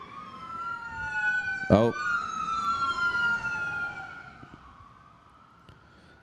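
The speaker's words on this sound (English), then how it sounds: "Sirens, baby." Wailing sirens rise and fall together at a moderate distance, fading away toward the end, with a brief exclamation from a nearby voice.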